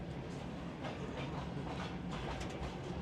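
Passenger train running on rails between Astana and Burabay in Kazakhstan, a steady, loud rumble with faint rhythmic clatter from the wheels, continuous and close, with no voices.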